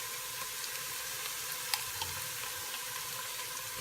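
Onions sizzle steadily in a pan as mustard is added for chicken yassa, a continuous close crackle with a small clink midway and no talking.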